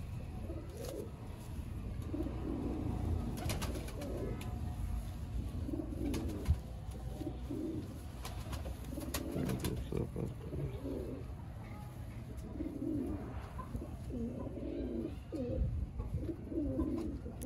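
Pigeons coo repeatedly in low, throaty rolls against a steady background hum, with some faint murmuring voices underneath, at a pigeon keeper's loft in Sialkot.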